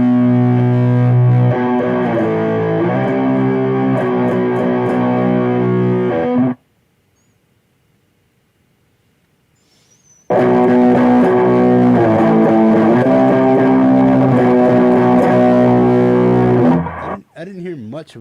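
Electric guitar played through a green JRC distortion pedal stacked with a Rat distortion pedal, loud sustained fuzzy chords and riffs, cutting off into silence for a few seconds before the heavy distorted playing resumes and then fades out.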